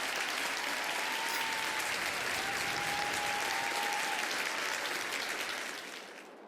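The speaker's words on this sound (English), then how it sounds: "I think I deserve a round of applause." A crowd claps in sustained, even applause that holds steady for several seconds, then fades out at the end.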